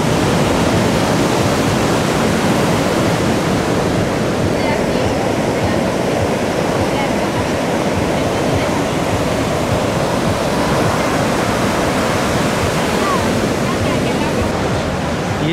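Rough sea surf breaks on the beach at Hotel Tesoro Ixtapa in a loud, continuous broadband roar with no pauses, heard close and alone.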